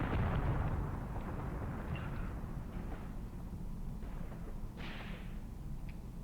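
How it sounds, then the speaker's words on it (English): Maxim machine guns open fire in the Graviteam Tactics wargame, a dense continuous rumble of distant automatic fire and thumping explosions rolling on without pause, with no voices over it. "my Maxim guns have actually opened up"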